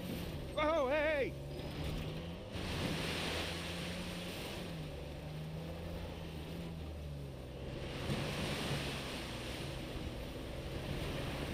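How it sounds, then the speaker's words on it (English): A waterfall in the video game Uncharted 4: A Thief's End makes a steady rushing roar beneath characters talking over it. "A secret cave behind a waterfall."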